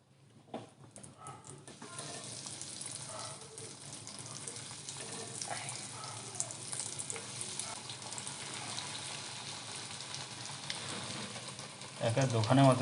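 Vegetable chops deep frying in hot oil, a soft continuous sizzle building after a quiet start and holding steady, close up, ending in a brief louder clatter, with voices faintly present.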